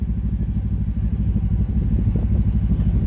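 Kawasaki Teryx KRX 1000 side-by-side in low range creeping down a steep incline off the throttle, its 1000 engine droning loud and steady with a low rumbling idle and occasional clatter, engine braking throughout.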